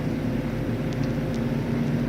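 A Mercedes-Benz 230SL engine drones steadily at high speed in top gear around Snetterton circuit, a deep continuous rumble with faint wind noise, close and unbroken.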